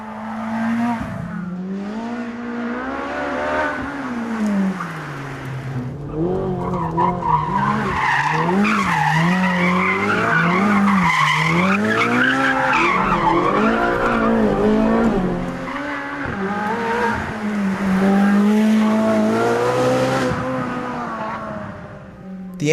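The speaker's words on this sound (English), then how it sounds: "The engine in the Speciale is the most potent non-turbo V8 that Ferrari has ever built" A Ferrari 458 Speciale's non-turbo V8 roars on a track, rising and falling through the gears close up, while its tires squeal and skid through corners in a long continuous pass.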